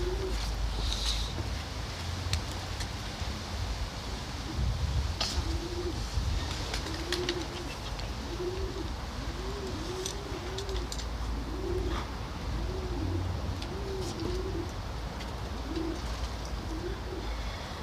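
Soft, repeated coos of racing pigeons in England roll along steadily at a distance, over a constant background hiss and occasional small clicks.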